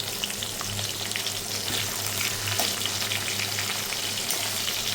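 Black cumin seeds and finely chopped onion frying in plenty of oil, a continuous dense crackling sizzle heard up close, even in loudness throughout, with no voices.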